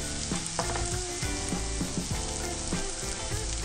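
Champignon mushrooms frying in a skillet, a continuous sizzle with repeated clinks and scrapes of a utensil stirring, close and steady without speech.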